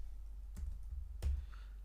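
Two quiet key presses on a computer keyboard, spaced about half a second apart, in an otherwise still room: the Ctrl+S shortcut to save a file.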